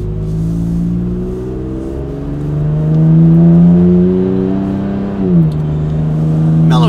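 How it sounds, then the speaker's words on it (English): Toyota Tacoma pickup fitted with an MBRP 3-inch single side exit cat-back exhaust drones steadily at highway speed, swelling as it accelerates, with a brief dip at a gear change near the end; no talking. "it's still an aggressive exhaust system for sure"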